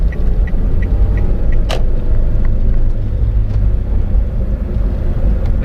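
A 2018 Toyota Calya E with a manual gearbox cruises on a toll road. A steady low engine and road rumble fills the cabin, along with faint periodic ticks and one brief whoosh near the middle.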